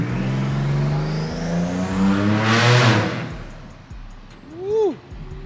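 A turbocharged Buick Grand National engine revs loud and close at a car show. The roar builds to a rushing peak, then trails off into short whining chirps while people talk nearby.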